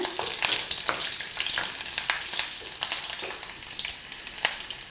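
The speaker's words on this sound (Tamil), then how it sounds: "இப்போ நம்ம எடுத்து வச்சுக்கக்கூடிய இஞ்சி பூண்டு ரெண்டுமே போட்டு லைட்டாக வதக்குங்க" Ginger and garlic sautéing in a pan for a tomato coconut-milk curry, giving a close, steady sizzle with frequent stirring scrapes and clinks, no voices.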